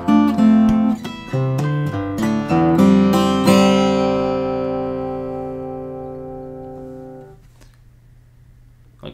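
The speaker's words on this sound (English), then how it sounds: "Okay, so that whole phrase would sound like this." Acoustic guitar playing the pre-chorus phrase of a song, strummed chords with a thumb upstroke, the last chord left to ring and fade alone with no talking.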